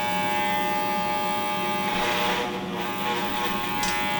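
Electric hair clipper buzzing as it cuts longer hair on a cosmetology mannequin, a steady close-up motor drone with rich harmonic whine, its tone briefly changing as the blades bite into hair.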